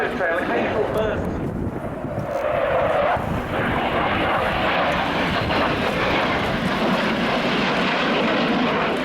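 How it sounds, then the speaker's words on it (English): Jet aircraft roaring through the apex of a loop at an airshow display, a broad, steady engine rumble heard from a distance, with a public-address commentator talking over it throughout. "The jet slowing down about 150 miles an hour at the apex of that loop"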